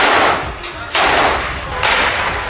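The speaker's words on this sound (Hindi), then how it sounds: "उन्होंने कई राउंड फायरिंग की।" Several rounds fired by Israeli soldiers in Gaza, a few sharp loud cracks spaced about a second apart, each trailing off into a noisy wash.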